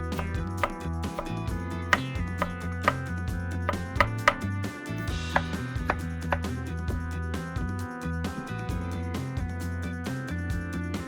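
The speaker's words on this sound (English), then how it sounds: "Roughly chop about 300 grams of mushrooms." Roughly 300 grams of mushrooms being chopped with a knife on a board, a steady run of fairly close, rhythmic chops, heard over background music with no speech.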